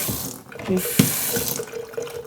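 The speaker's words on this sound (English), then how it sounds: "We've got a sink. Hot and cold running water." Hot and cold tap running into a shop sink fitted with a rubber plug, P-trap and sprayer: a steady close splash of flowing water with a brief louder gush near the middle, no talk.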